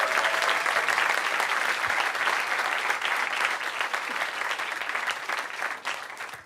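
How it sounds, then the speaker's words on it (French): Audience applause at a stand-up comedy club, loud and steady for the full stretch, with a crowd clapping continuously and easing off slightly near the end. "Merci d'applaudir la performance."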